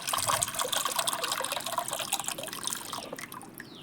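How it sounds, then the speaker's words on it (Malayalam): Water splashes and trickles steadily into a repaired cracked clay pot, a bright continuous pour with small drips, close up, fading toward the end. "കുറച്ച് വെള്ളം ഒഴിച്ചിട്ട് ഞാൻ കാണിച്ചു തരാം"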